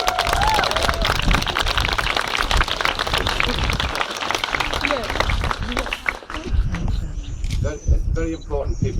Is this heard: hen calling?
no